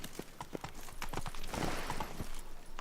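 Hoofbeats of Roach, Geralt's horse in The Witcher 3, a steady clip-clop of hooves trotting nearby over a low ambient background.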